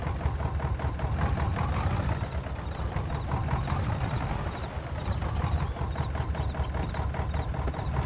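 A classic tractor engine idling in the video game Farming Simulator 22, a steady, close, rhythmic mid-pitched chug that holds evenly throughout.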